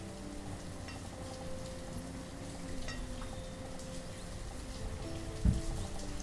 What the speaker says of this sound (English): Better rain than snow.